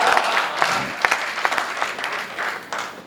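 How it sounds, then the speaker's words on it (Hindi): Applause from the audience at a Hindi comic poetry recital, with scattered, uneven clapping that rises and thins over a few seconds, fairly close and with no voices over it. "आपने ताली बजाई"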